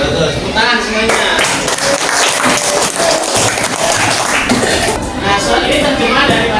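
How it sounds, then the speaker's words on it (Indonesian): Classroom students clapping together in a dense, sustained burst of applause with some shuffling and chuckles, voices mixed in, close and loud. "tepuk tangan semuanya"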